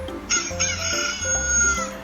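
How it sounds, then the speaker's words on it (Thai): A rooster crows in a long, strained call over a busy mix of other tones, loud and close, with no voices. "เสียงไก่ขันเมื่อตอนตีสี่"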